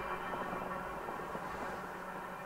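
A CSX freight train, Q368, rolls past with a continuous rumbling, grinding rail roar, steady and fairly close, with no talk over it.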